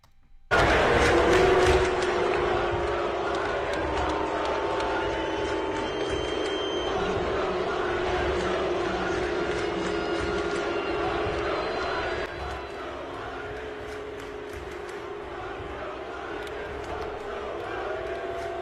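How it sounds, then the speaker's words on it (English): A large outdoor crowd jeers and boos Joe Biden in his home state, a loud swell of massed voices that starts abruptly, holds for several seconds, then drops to a lower but continuing roar. "Joe Biden booed by crowd in Joe Biden's home state"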